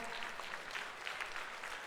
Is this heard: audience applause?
yes